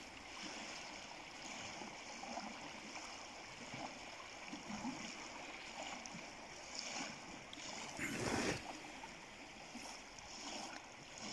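A stream's flowing current makes a soft, continuous rushing wash near a dungeon, faint and steady, with one brief louder splash-like burst partway through.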